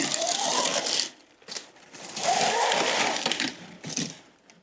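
Crackly, sticky rustling of new pleated blinds unsticking as they are pulled down, in two long bursts with a shorter one near the end, close and fairly loud.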